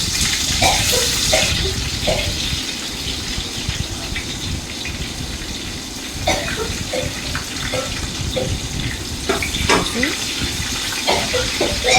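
Chopped onions fry in a pot for chicken dum biryani, a loud continuous sizzle and hiss close by, with scattered scrapes and clinks of a ladle stirring them.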